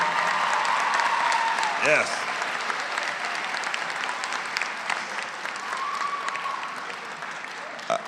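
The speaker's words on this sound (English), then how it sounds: "So give all your family and friends a warm applause" Sustained applause fills a college commencement hall as the audience claps for graduates' family and friends, steady and moderately loud, with a brief voice and a short tonal sound partway through.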